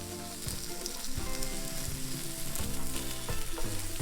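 Egg and turkey frying together in a pan for a French toast breakfast sandwich, a steady close crackling sizzle with bursts of popping and the occasional scrape of a utensil, no voices.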